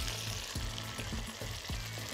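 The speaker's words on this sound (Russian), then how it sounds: "Все, и отправляем ее жариться." Breaded trout fries in oil in a pan, giving a steady, fairly quiet hiss and sizzle with faint pops throughout.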